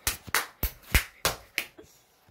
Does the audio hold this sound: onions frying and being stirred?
no